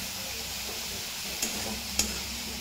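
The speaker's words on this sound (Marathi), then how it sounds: "मिक्स करून घेतली भाजी." A Marathi-style dry vegetable curry sizzles in a pan under a steady frying hiss as it is stirred, with two brief sharp scrapes of the spatula and no voices.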